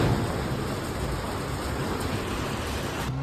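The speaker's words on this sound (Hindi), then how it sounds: "बाहर फुल तेज बारिश हो रही है यार" Heavy rain pours down outside a car, a steady, dense broadband hiss that stays loud and constant throughout, with no voices.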